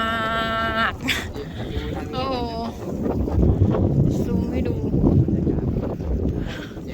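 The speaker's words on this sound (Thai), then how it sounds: "ลมเย็นมา" Cool wind blowing outdoors on a mountain outing gives a low, rumbling gusty rush under people chatting and calling out nearby.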